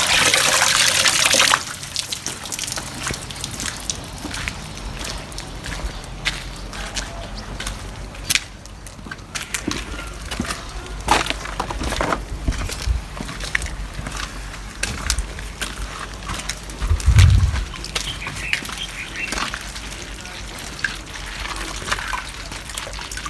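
Catfish fingerlings are poured into a pond, opening with a loud rushing gush of water, then settling into continuous close trickling and splashing with scattered sharper splashes throughout.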